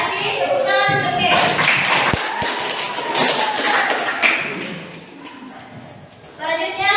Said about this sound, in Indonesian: Tepuk tangan oke